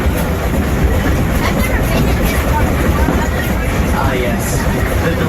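Excursion train rolling on rails with a steady loud rumble and faint rhythmic clatter, heard up close from aboard amid a murmur of passengers.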